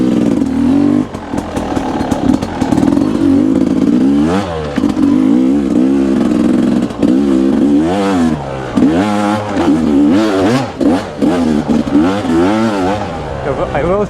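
Yamaha YZ250 two-stroke dirt bike engine, freshly rebuilt, revving repeatedly, rising and falling in pitch with rapid bursts of acceleration, loud and close.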